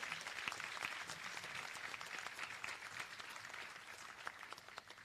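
Business academy graduation audience applauds the graduates, continuous even clapping from a crowd, fairly distant and soft.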